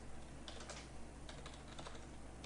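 Quiet, quick keystrokes tap out an article on a computer keyboard in short irregular bursts, close by and with no talking.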